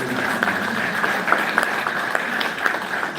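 Audience at an anti-corruption conference applauds a departing CEO, a steady wash of many hands clapping with scattered sharper claps standing out, sustained throughout at moderate loudness.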